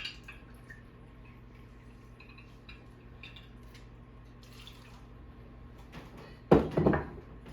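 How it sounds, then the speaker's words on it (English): A short splashing pour of a shot of vodka into a cocktail shaker near the end, loud and close, after several seconds of quiet room tone with faint drips and clinks. "we're going to put a shot of vodka in the shaker"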